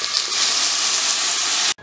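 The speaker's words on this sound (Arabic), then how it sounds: "وبعد ما البصل يدبل هنضيف عصير الطماطم اللي ضربناه في الخلاط" Blended tomato juice poured into a hot pan of onions, a loud close burst of hissing sizzle and gushing liquid lasting under two seconds before cutting off abruptly.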